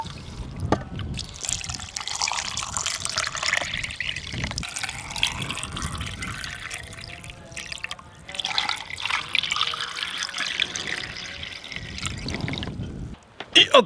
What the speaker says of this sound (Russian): Друзья, теперь водой заполняем все эти наши горшочки